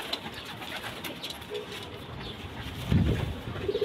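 Pigeons coo softly and repeatedly, one low throaty call swelling louder near the end, over a constant background hiss.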